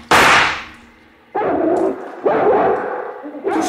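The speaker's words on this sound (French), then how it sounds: "Tirez, Watson! Tirez sur lui" Gunshots as a sound effect in a French Sherlock Holmes radio drama of The Hound of the Baskervilles: a sharp, loud crack, then two or three more bursts in quick succession, each decaying quickly.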